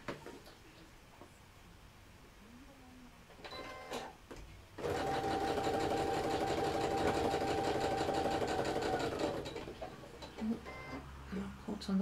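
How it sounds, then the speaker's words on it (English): A sewing machine stitching across a marked line on a fabric mug bag runs in one steady, loud whirring stretch of several seconds, preceded and followed by quieter handling noises. "I'm going to sew across that line"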